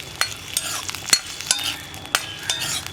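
Onions and dried shrimp fry in a pan while being stirred, a soft steady sizzle broken by several sharp scraping clicks of the spoon against the pan.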